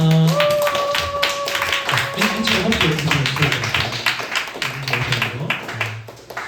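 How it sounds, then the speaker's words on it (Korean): A high-school church service audience claps to welcome visitors forward, a brisk scattered patter of clapping under someone speaking, with a sustained instrumental tone at the start. "큰 박수로 맞이하겠습니다"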